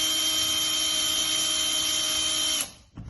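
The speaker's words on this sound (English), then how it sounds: "So 6mm hard plate bit in, firm pressure." A power drill fitted with a 6mm hard plate bit bores steadily into a BS mortice lock under firm pressure, a loud continuous high-pitched whine for about two and a half seconds before spinning down and stopping abruptly.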